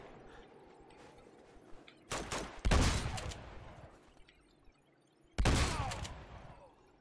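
Bursts of machine gun fire in the video game Uncharted 2, two loud sustained volleys a few seconds apart, each trailing off into echoing decay over a low ambient rumble.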